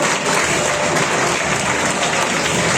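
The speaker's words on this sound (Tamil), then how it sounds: "பெரிய கைத்தட்டல் கொடுத்துருக்காங்க" An audience at an awards ceremony gives a sustained round of applause, a full, even wash of many hands clapping at steady loudness with no talk over it.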